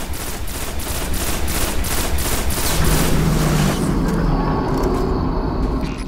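Rapid gunfire from the video game Destiny: The Taken King fills the scene, with a steady machine-gun rattle of shots in the first seconds that gives way to continuous loud firing and rumbling blasts.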